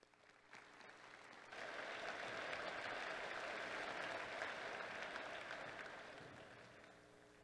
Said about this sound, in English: And I'd like to give yourselves a round of applause.